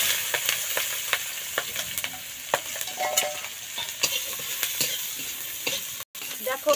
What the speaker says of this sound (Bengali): লাল করে পেঁয়াজ রসুনটা ভাজা করছি।